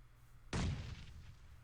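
A single grenade blast in PUBG on the Miramar map gives a sudden heavy boom that rumbles and fades over about a second. The scene is quiet before and after it.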